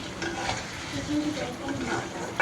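Potatoes go into a spiced Bengali shing fish curry frying in a pan, giving a steady close sizzle with stirring scrapes throughout.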